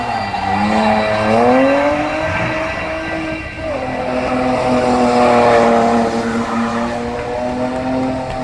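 A drift car's engine revs hard at a Latvian drifting event, rising and falling in sustained, loud pitch sweeps over about eight seconds. No voices are heard over it.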